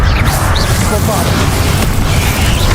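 A Bombarda explosion spell cast in Hogwarts Legacy, a dense booming burst over constant loud game noise that fills the whole moment, with a voice speaking through it.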